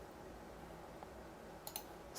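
A few quiet, sharp computer mouse clicks tap out near the end of a nearly silent moment of drafting work at a desk.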